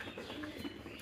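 A domestic pigeon in a small farm loft coos softly in a short low murmur close by, with faint chirps and steady background noise.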